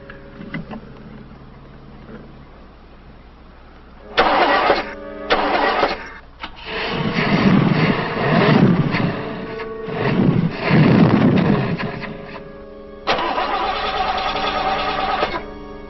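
A car engine cranks in repeated grinding bursts, then catches and revs unevenly in loud surging waves, stops, and cranks again near the end. The sound is close and rough, with no voices.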